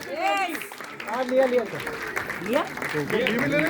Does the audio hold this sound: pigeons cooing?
no